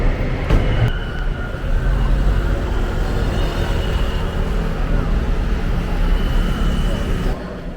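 Train and station ambience at a large Thai railway station, a steady low rumble and broadband din filling the scene with a couple of brief clanks near the start, continuous and fairly loud, with faint voices mixed in.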